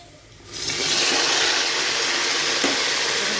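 Chopped beans, carrot and potato are dropped into a hot frying pan for pulao, and a loud, steady sizzle starts abruptly after a short quiet moment and continues evenly.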